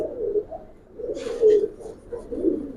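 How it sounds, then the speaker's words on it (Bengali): A male Giribaz pigeon gives three or four low, rolling coos in short bursts with brief pauses, close by, and a faint chirp in between. "এটা একটা নর কবুতর"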